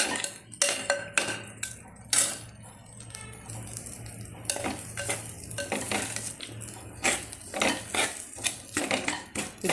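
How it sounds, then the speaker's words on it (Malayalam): A utensil stirs and scoops through an idli-based dish with tomato and green chilli in a pan or vessel, giving repeated metallic scrapes and clinks in an uneven rhythm, close and moderately loud, with a low steady hum beneath. "നന്നായിട്ടൊന്ന് ഇളക്കി കോരി വെച്ചാൽ"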